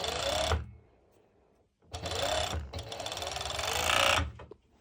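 Sewing machine stitching fabric for a twisted-knot top, running in two bursts: a short run, a pause, then a longer steady whirring run that stops near the end, close and fairly loud with no talk.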